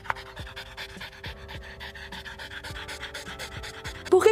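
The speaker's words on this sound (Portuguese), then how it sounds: "Arfar é quando o cachorro fica com a língua pra fora." A dog pants with its tongue out in quick, steady breaths, close to the microphone, with a brief louder sound at the end.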